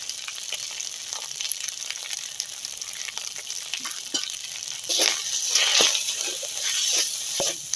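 Ginger-garlic paste frying with spices in a pan, crackling and sizzling steadily with brief pops, growing somewhat louder and busier toward the end.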